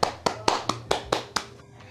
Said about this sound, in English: let's give a round of applause for everyone because I think everyone did a good job